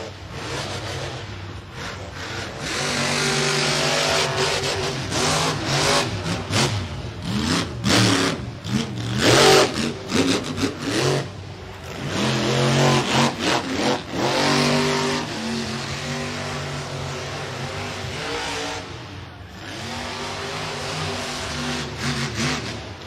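The Saigon Shaker monster truck engine roars and revs hard at a freestyle show at Mid-America Outdoors, loud and surging with repeated throttle blips and rising, falling engine roar.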